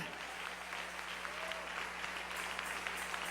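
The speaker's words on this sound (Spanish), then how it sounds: "Dale ese aplauso al Rey." A congregation claps for the King during a Spanish-language sermon, an even, continuous patter of applause heard at low level with a faint steady hum underneath.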